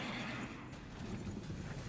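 A horse in the video game Darksiders whinnies over a dense, noisy game soundscape, with hoofbeats clopping underneath and no voices heard.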